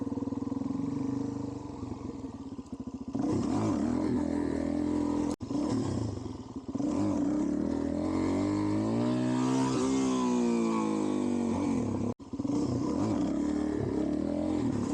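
Suzuki DRZ400SM motorcycle fitted with a 12-tooth sprocket revs and roars as it is ridden, loud and close throughout, with rising and falling engine pitch and two brief cutouts.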